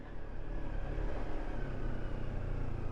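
Kawasaki Versys X 300 motorcycle engine revving steadily as its rear wheel spins for grip on a trail with low-knobbled tyres, a continuous close, rumbling drone at fairly even loudness throughout.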